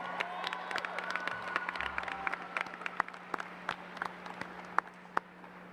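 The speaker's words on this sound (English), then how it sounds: "everybody on the floor, give your parents a round of applause for everything they've done to help you out" High school graduates on an arena floor applaud their parents, the clapping thinning out from a crowded start into scattered individual claps with a few faint cheers.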